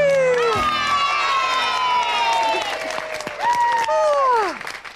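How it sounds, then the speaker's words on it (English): Studio audience of children applauding and cheering on a 1990s children's music show, with excited shouts and clapping mixed together loudly as a high sung or shouted voice sweeps over the top. "Give yourselves a big round of applause."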